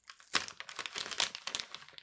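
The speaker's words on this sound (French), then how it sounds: "Alors le papier cadeau, j'aimerais bien le récupérer. Du coup, je vais essayer de ne pas tout arracher." Gift wrapping paper being carefully unwrapped makes close, quiet crinkling and crumpling with a few small tearing rips, alone with no voices.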